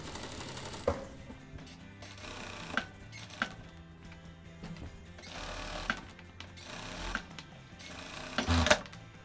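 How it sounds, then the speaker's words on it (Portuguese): A sewing machine stitches the lining of a loose summer dress in several separate bursts of rapid mechanical chatter with short pauses between. The runs are close and moderately loud, with no talking. "Você costura o máximo que puder"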